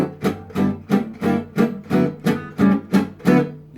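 Rhythmic gypsy jazz guitar chord changes, about nine evenly spaced strummed chords with crisp percussive attacks, played close and alone.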